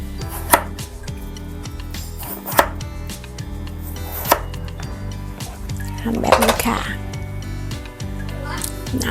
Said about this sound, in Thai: หลังจากนั้นเราจะนำไปหั่นนะคะ